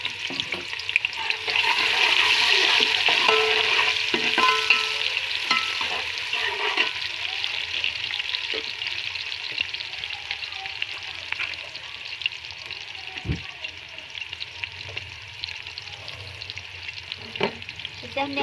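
A single medium-sized chopped onion fries in hot oil for a potato, fenugreek and pea dish, sizzling loudly at first and then settling into a softer, steady fry with scattered stirring clinks, close and without talk.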